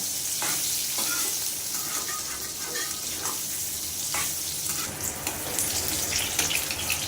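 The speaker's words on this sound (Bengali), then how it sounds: "আলুগুলো সুন্দর করে ভেজে নেব" Potatoes frying in a pan give off a loud, continuous hissing sizzle with scattered pops and stirring clinks throughout, with no voices.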